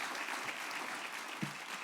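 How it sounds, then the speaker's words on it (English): Steady applause fills a hall at an anniversary event for a bank's volunteerism program, with a dense, even clatter of many hands clapping throughout and no voices on top. "I'd like to give him applause for that"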